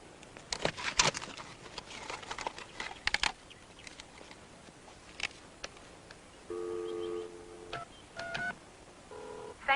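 Telephone keypad tones dialing 911 on a landline by a pool, a quick series of close, clear beeps with short pauses between presses and faint handling clicks around them.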